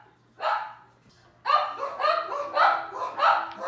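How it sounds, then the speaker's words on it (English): A dog barks in a short burst, then a run of several quick, loud barks close by. "Running around and barking"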